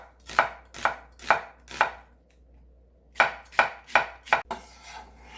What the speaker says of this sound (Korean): 양파 1개 썰어서 넣어줄게요.